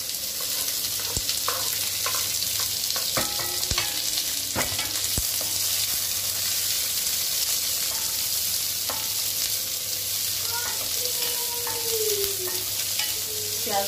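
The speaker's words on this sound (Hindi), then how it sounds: "अभी हम इसमें प्याज और मिर्च ऐड कर देंगे" Onion and green chili frying in hot oil with cumin seeds for pav bhaji, a loud steady sizzle with occasional pops and stirring scrapes from a spoon in the pan.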